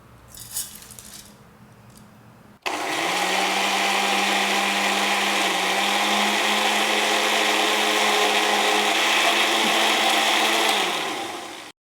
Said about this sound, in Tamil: ஓகே, மிக்ஸியில் போட்டு அரைச்சிடலாமா?